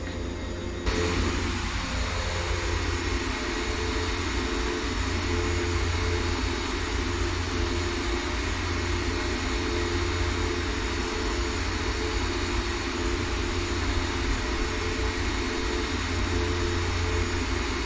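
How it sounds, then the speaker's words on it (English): DHC-6 Twin Otter twin turboprop engines idling after start in X-Plane 11, a loud steady whine and roar held constant throughout, with a falling tone sweeping down early on. "Okay, so we got two good engine starts"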